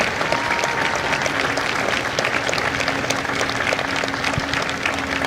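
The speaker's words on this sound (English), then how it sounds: "Ladies and gentlemen, a round of applause for their dedicated service to Corps and country." Audience applause at a Marine Corps recruit graduation ceremony at MCRD San Diego, a dense, continuous clapping from a large crowd that holds steady throughout.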